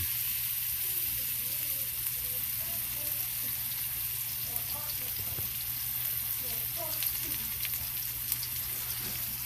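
Ribeye steak searing on its edge in a hot pan, giving a steady, dense sizzle and crackle throughout with faint background voices.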